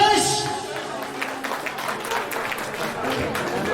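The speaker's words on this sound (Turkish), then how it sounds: "Bravo alkış!" Guests clap at a Turkmen wedding celebration for a couple, in a short burst of applause heard under lively crowd noise and voices.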